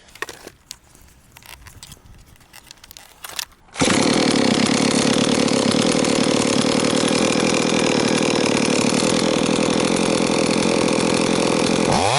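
After a few seconds of quiet clatter, a Holzfforma G388 chainsaw engine roars to life and runs loud and steady at high revs, around 12,400 rpm, until the end.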